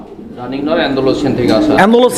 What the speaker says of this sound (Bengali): এখানে একটা সিঙ্গেল কবুতর আছে সিঙ্গেল একটা মুন্ডিয়ান কবুতর